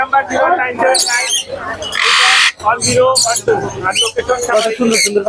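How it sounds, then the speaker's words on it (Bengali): A loud, harsh squawking myna call bursts out midway amid busy chatter and people talking nearby at a bird market. "মিরপুর হাটের চমৎকার একটি ময়না পাখি এসেছে"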